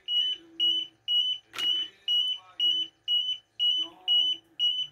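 An oxygen monitor alarm set off by a low 17.3 percent oxygen reading while testing a face covering, beeping in a steady loud pulse about twice per second for the whole stretch, with a brief voice and a sharp knock partway through.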